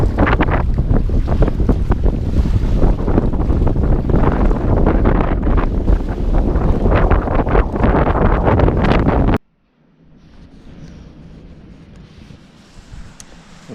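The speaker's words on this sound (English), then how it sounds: "the wind's a bit strong" Strong wind buffeting the microphone beside Loch Laidon at night, a loud continuous roar with gusts that cuts off abruptly partway, leaving a quieter breezy background.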